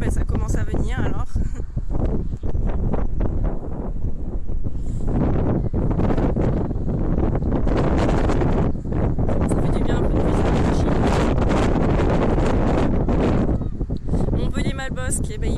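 Outdoor wind in Montpellier buffets the microphone with loud, continuous rumbling gusts, while a voice talks over it throughout.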